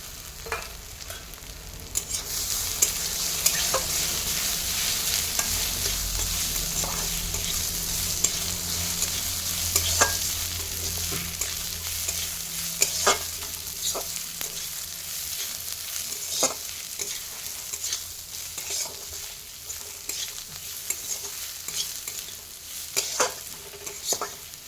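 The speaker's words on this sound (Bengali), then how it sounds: "পেঁয়াজের সঙ্গে ডালটি খানিকক্ষণ নাড়াচাড়া করে ভেজে নিব।" Moong dal frying with onions in a pan and stirred steadily, with a continuous close sizzle and scattered scraping clicks from the spoon throughout.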